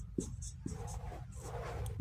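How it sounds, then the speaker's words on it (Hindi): Pen writing Hindi words by hand, short scratchy strokes in quick bursts, close and faint, with no talking. "चलिए मैं इसको लिख के बता देता हूँ। सबसे पहले चलिए हिंदी में लिखता हूँ"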